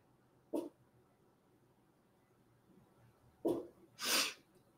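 Sniffles from someone with a cold: three short, close nasal snorts, one early and two in quick succession near the end, with quiet pauses between and no talking.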